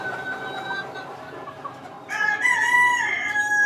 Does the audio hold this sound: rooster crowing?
yes